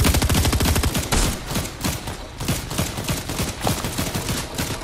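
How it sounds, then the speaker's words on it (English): Rapid gunfire in the Fortnite video game, dense bursts of repeated shots firing in quick succession, loud and close, continuing steadily for several seconds with brief dips between volleys. "Who's shooting?"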